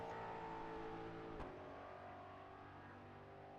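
A race car on a qualifying lap at Magny-Cours holds a steady, high engine drone with a brief shift midway, heard faint and at a distance.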